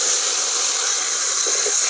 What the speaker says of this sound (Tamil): அதே நெய்யில் இப்போ நம்ம தக்காளியை போட போகிறோம்.